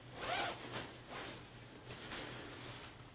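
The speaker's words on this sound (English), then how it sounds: "And let's unzip this." The zipper on a Coolife PC hardshell carry-on suitcase is pulled open in one close, steady rasping stretch that fades toward the end.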